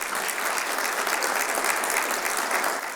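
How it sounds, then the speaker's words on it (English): At a veterans' awards gala, a large audience claps in a thick, continuous wash of applause that stays even and fairly close for the whole stretch. "Let's give him a round of applause."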